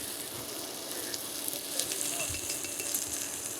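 Ghee sizzling steadily in a hot pan while a rice piyaz base is built, a dense, even hiss with faint crackles, close and continuous, no voices.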